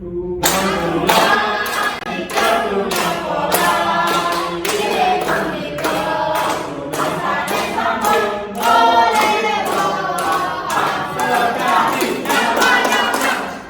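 A class in a Balinese-language lesson claps hands together in a steady, repeating rhythm for a clapping game, with voices chanting along between the claps.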